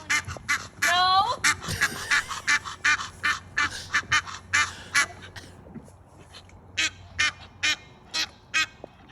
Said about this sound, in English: They're antagonizing the geese.